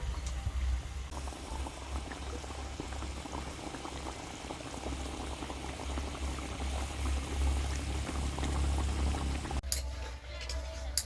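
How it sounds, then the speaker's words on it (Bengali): Egg curry boiling in a pot, a steady bubbling simmer that runs throughout, ending with a brief clatter, without speech. "তো এটা ভালো করে ফুটিয়ে নেবো, ফুটে উঠলেই কিন্তু হয়ে যাবে আজকের ডিমের রেসিপিটা।"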